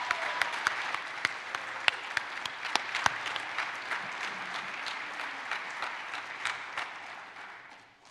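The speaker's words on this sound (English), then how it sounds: "Another round of applause for our young musicians." An audience at a Veterans Day ceremony applauds young musicians, with sharp individual claps standing out over a sustained crowd patter that gradually fades toward the end.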